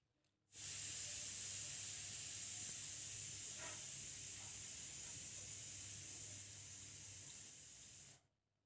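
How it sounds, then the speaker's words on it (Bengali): Katla fish pieces go into hot oil one by one, raising a soft, even sizzling hiss that holds steady for about eight seconds before stopping abruptly. "এইভাবে মাছগুলো আমি এক এক করে দিয়ে দিচ্ছি"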